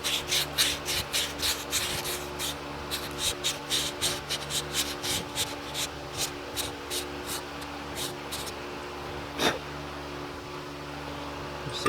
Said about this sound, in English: Some 600 grit emery cloth.